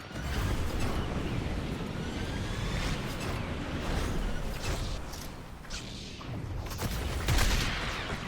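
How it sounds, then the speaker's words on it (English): Pistol gunfire in a video game, a dense running clatter of shots and booming impacts sustained throughout, fairly loud and busy with no talking over it. "That's a good pistol, don't want to get hit by that anymore."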